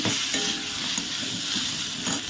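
A vegetarian curry of flat beans, potato and eggplant with chilli, cumin and ginger paste cooks in a pan. A continuous close sizzle runs throughout, with occasional stirring scrapes and no talking.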